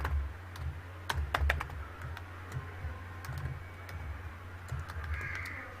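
Quick, light key clicks as code is typed on a computer keyboard, coming in irregular clusters, fairly close and quiet, over a low steady hum.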